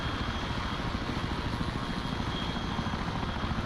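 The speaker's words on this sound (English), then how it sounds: "We're boarding the Chinook now." A Chinook helicopter in a video game gives off a steady, close rotor drone with a dense low thumping that stays even and loud throughout, with no voices over it.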